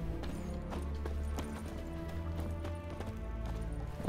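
A horse in The Witcher 3 trots with quick, rhythmic hoof clip-clops on firm ground, close and steady throughout, alongside faint background game sound.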